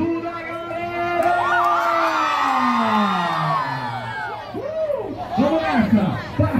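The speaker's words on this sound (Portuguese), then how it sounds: "Um grito da galera!" Children at an outdoor Children's Day event in a city park give a loud, sustained cheer with shouts and whoops, then scattered excited yells and chatter as the cheer breaks up.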